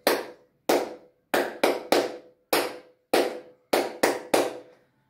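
Hands clap out a rhythm of nine sharp, close claps in uneven groups, some quick pairs and single beats, with nothing else heard.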